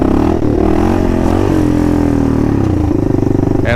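A Kawasaki KLR650 motorcycle revs hard in first gear with the clutch slipping for a wheelie, its loud, close single-cylinder engine droning steadily and then climbing in pitch near the end.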